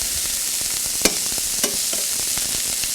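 Chicken browns in a hot pan with a continuous bright sizzle and a few sharp clicks of stirring or flipping, close and loud with no talking.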